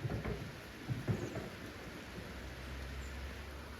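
Steady rain falls outside a barn in a soft, continuous patter, faint and close, with a few low thumps early on and a low hum toward the end.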